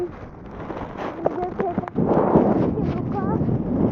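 Strong wind outdoors on a street walk buffets the microphone with low, gusty rumbling that grows heavier and more constant in the second half, while a person talks over it.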